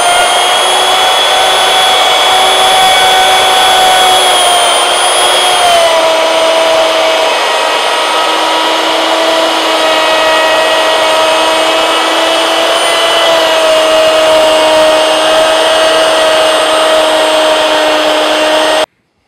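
A handheld wood router with a guide bearing cuts a moulding profile along a plank, a steady loud high-pitched whine that holds for nearly twenty seconds, its pitch dipping slightly partway through as the bit bites into the wood.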